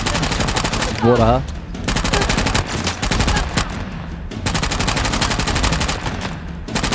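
Rapid automatic gunfire in the video game Uncharted: The Lost Legacy rattles in long, loud bursts with a short pause, and a voice speaks briefly near the start.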